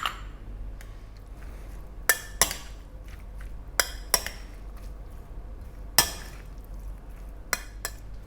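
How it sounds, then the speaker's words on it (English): Avocado salad with Kalamata olives, cucumber and parsley is tossed in a bowl, producing a handful of sharp utensil clinks against the dish over a soft wet shuffle, close and fairly clear with no voices. "Let's give that a mix."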